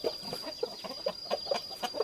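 Rhode Island chickens, some of mixed breeding, clucking close by in a quick series of short, soft clucks spread evenly over a few seconds, fairly quiet, with no talk.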